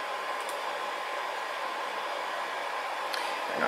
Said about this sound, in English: We're going to go ahead and power on the system.